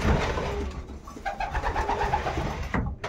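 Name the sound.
pigeons cooing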